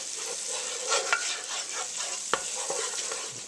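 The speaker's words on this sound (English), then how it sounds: "then we will add in our 6 tablespoons of flour, and then we will stir this together" Flour is stirred into melted butter in a pot, making a soft, continuous sizzle with a few light scrapes and taps from the utensil. The sound is quiet and close, and no one speaks.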